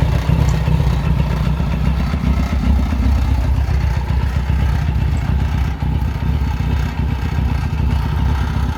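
An Australian-delivered 1976 Kawasaki Z900 motorcycle engine fires up and runs loud and close, its steady low exhaust rumble carrying through the whole stretch without pause.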